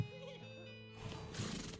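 A horse neighs in the video game West of Loathing, a short, fairly faint whinny with a wavering pitch followed by a brief burst of noise, heard alone without talk.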